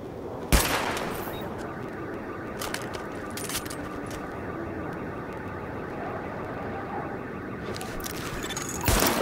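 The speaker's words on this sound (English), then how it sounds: "Open fire at the highlighted targets." Weapon fire at highlighted targets in a shooting test in The Division, a loud shot opening and another closing the stretch, with scattered quieter reports and clicks over a dense rumbling bed between them.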